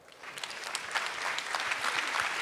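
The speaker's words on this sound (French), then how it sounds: "On va les applaudir." Applause from a conference audience at an e-marketing plenary session, starting thin and swelling into steady clapping across the short stretch.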